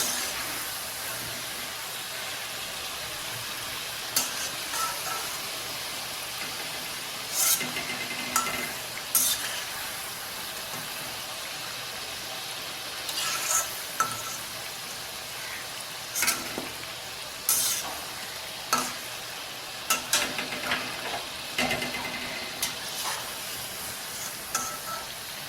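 Snake gourd bajji rings fry in hot oil with a steady, close sizzle, broken by occasional stirring or turning clicks and scrapes; no one talks.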